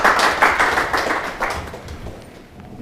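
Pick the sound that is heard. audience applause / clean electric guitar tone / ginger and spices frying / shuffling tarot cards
audience applause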